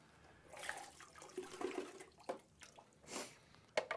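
Water poured out of the drip tray of a Gaggia espresso machine into a sink, splashing and trickling in short uneven bursts, close by with no talking.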